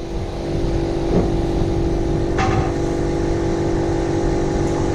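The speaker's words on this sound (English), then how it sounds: "It's got to be some generator, some motor." A generator or motor running outside a hotel room in Francavilla, Abruzzo, Italy, a steady droning hum with a constant tone that holds for the whole stretch, with a couple of faint brief clicks and no talking.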